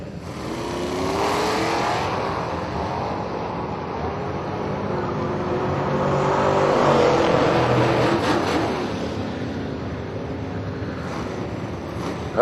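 A Ford and a Chevy Camaro drag race car launching down the strip, their engines a loud, sustained roar that swells toward the middle and carries on at a distance.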